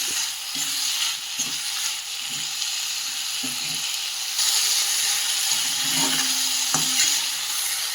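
Chutney ingredients with turmeric powder sizzle and fry in a pan, a steady close hiss with brief stirring scrapes now and then and no voices.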